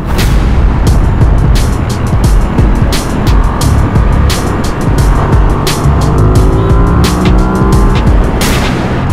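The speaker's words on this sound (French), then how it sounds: "Je vais mettre les gaz quand même." An engine revs and climbs in pitch, close and loud, buried under a constant roar of rushing wind.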